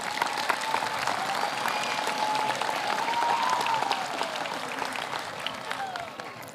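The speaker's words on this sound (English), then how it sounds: "Please give yourself a round of applause." Audience applause at a career technical center completion ceremony: sustained crowd clapping with scattered cheers, loud and steady before tapering off at the end.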